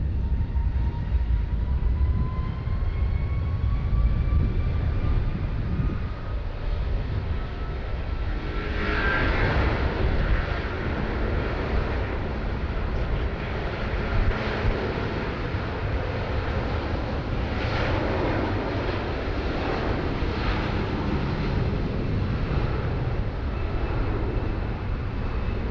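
Qatar Airways Boeing 777-300ER airliner making a heavy takeoff from Sydney Airport, a sustained distant roar of jet engines with rising whine at times, steady and loud throughout without speech.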